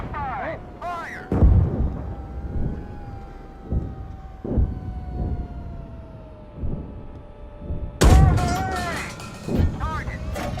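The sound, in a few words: tank main gun firing in the video game GHPC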